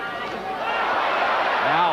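Boxing crowd roaring continuously for George Foreman during his 1993 fight with Tommy Morrison, a dense, steady wall of arena cheering and babble that swells slightly toward the end.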